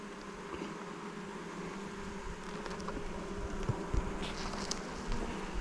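Honey bees buzzing around frames in a new beehive, a dense steady drone with a few louder passes of individual bees flying close by, no talking.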